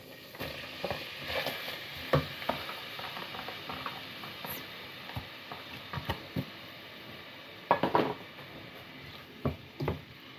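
Onion dropped into hot soybean oil, a low sizzle under repeated clattering stirs and scrapes of a utensil against the pan, with a few sharper knocks.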